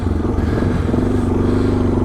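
A loaded Suzuki DR650 single-cylinder dual-sport motorcycle idles and pulls away up close, its engine thumping in a steady low pulsing rumble with a faint rising tone.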